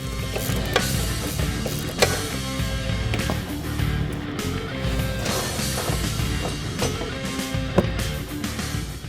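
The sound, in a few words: wrench loosening the strut-to-tower nut on a Mustang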